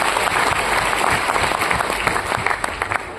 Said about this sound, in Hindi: सबके लिए शानदार तालियां।